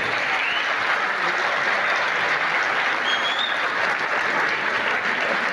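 Steady, dense applause from a gathered audience at a Christmas cake cutting ceremony at Punjab University, a continuous wash of many hands clapping without pause, fairly loud and even throughout.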